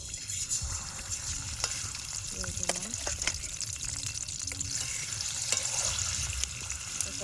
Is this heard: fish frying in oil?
yes